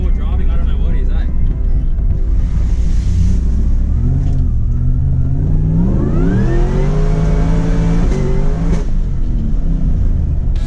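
Nissan Patrol four-wheel driving off-road in the Glasshouse Mountains, its engine loud and close, revving and rising in pitch through a climb, with people talking over the steady drone.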